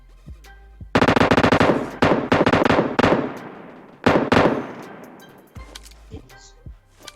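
Rapid automatic gunfire from a video game, loud close bursts of shots in several volleys over about six seconds, with a faint voice in the background.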